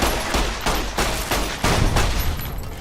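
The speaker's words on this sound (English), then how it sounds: "how much stuff is firing on you as soon as you're around that corner" Automated turrets firing in Fallout: New Vegas, a dense, continuous rattle of rapid gunfire, loud and close, with no pauses across the short stretch.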